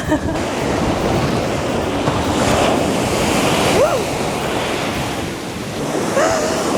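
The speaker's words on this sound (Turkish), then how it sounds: "Çok fena görüyorsunuz dalgalar. Okyanus gibi gerçekten." Strong sea waves crash on the shore in a continuous loud roar of surf mixed with heavy wind buffeting the microphone, with faint voices briefly rising above the noise.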